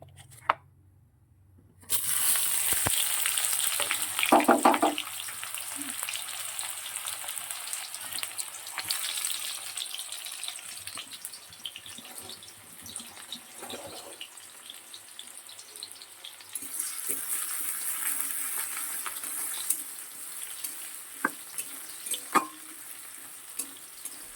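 Food fries with spices, chopped onion and tomato in a pan, a steady close sizzle with occasional scraping and stirring clatter, swelling louder at times, without speech.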